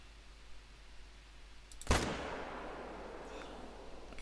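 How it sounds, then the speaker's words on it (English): A single sharp rifle shot in TheHunter: Call of the Wild, fired at a cape buffalo over 300 meters away, cracks out abruptly from quiet ambience and leaves a long rolling echo. "Just shot too high"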